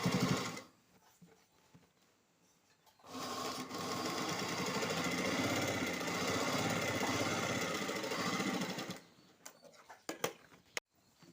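A sewing machine stitches an embroidery blouse, a fast, even mechanical whirr that runs for about six seconds between quiet pauses, close by and alone.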